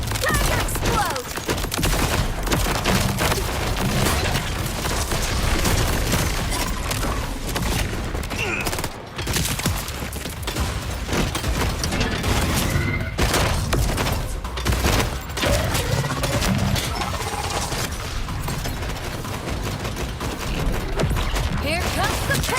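Explosions and gunfire in the game Borderlands 4, a dense, loud barrage of bursts, booms and thuds running almost without pause, with voices talking over the chaos.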